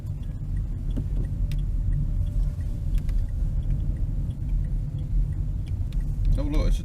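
Low, steady road rumble fills a car cabin during a drive in Spalding, with engine drone underneath and people chatting over it throughout.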